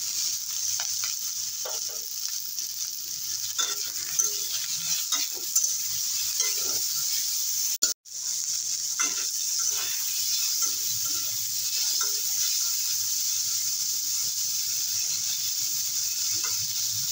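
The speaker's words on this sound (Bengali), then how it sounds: "তেল গরম হয়ে গেছে, বেগুনটা দিয়ে দেবো।" Eggplant pieces fry in hot oil with a constant close hiss and sizzle, broken by occasional light stirring clicks and one brief dropout partway through.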